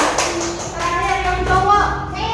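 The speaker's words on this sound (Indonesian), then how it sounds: "beri tepuk tangan buat Ria dulu" Primary school pupils in an Indonesian classroom applauding a classmate, a brief burst of hand claps mixed with children's voices and a teacher talking over them.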